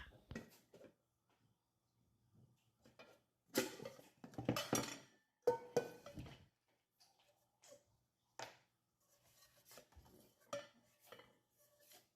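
A cooking pot being washed, with scattered clinks and clatters of dishes and metal, close and fairly quiet, spaced out with soft pauses between the bursts.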